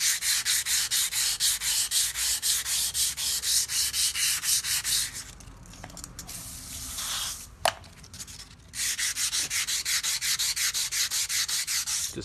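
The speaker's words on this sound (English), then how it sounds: "Then once I'm done with the 60 grit, I come down to 220 and wet sand the bar." A steel stabilizer bar from a 1973-87 Chevy or GMC truck being wet sanded with 220 grit paper by hand: steady, rhythmic rasping back-and-forth strokes, with a quieter pause midway before the scrubbing resumes.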